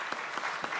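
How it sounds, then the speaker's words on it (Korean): Audience applause at a church forum, a short burst of clapping with a few distinct sharp claps standing out from the crowd patter. "다 함께 박수 한번 하시죠"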